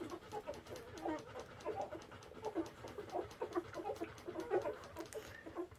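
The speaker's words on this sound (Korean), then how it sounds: "젖 빠면서도 엉엉 하면서 옹알이 하는 거 봐" Eleven newborn puppies nurse from their mother, a dog named Sunny, with faint high whimpers and soft squeaky grunts repeating in a busy overlapping patter, close and quiet.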